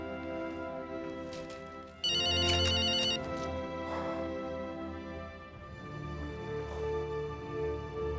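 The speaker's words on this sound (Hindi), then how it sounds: "वैसे भी तुम्हारा फोन बज रहा है।" A mobile phone rings with a repeating melodic ringtone, steady and moderately loud indoors, over a soft background music bed.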